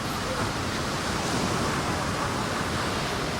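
A huge ocean wave breaks at the Pe'ahi surf contest on Maui, a dense, roaring wash of surf with wind noise that stays loud and continuous throughout.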